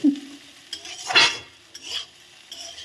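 Egg frying with paneer in a pan for a home-cooked egg paneer bhurji: a couple of short, close scraping stirs over a soft sizzle, with no talking.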